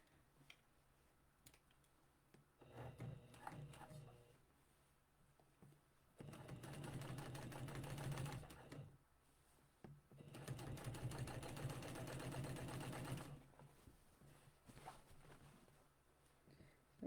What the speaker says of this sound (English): Now we can stitch.